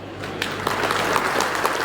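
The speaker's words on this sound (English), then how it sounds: "Ladies and gentlemen, please have a huge round of applause for him." Applause from a gathering at a grand felicitation ceremony as the chairman is welcomed: a steady wash of clapping with scattered sharper claps standing out, plus a low constant hum beneath.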